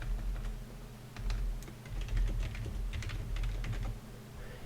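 Fast, steady typing on a computer keyboard, close and clear, with bursts of key clicks and short pauses, no speech.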